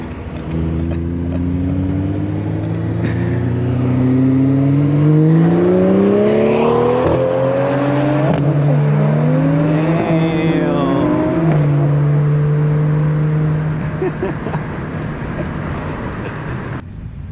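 A BMW engine, a B58 M340i or N55 435i, revs loudly and close for a long stretch, pitch sweeping upward, dipping and climbing again before settling into a steady drone and easing off.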